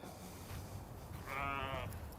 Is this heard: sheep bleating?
yes